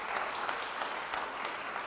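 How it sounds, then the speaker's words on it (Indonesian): A church congregation claps steadily and fairly loudly, a full, sustained wash of applause with faint crowd murmur beneath. "Beri tepuk tangan yang baik bagi dia"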